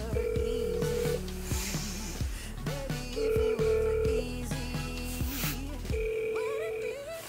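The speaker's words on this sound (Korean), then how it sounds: "일단은 학원에 먼저 전화를 해보려고요." Unanswered telephone call to a pole dance academy, with tonal beeps and ringing over music and background noise. The sound fills the whole stretch at moderate loudness, and no one speaks.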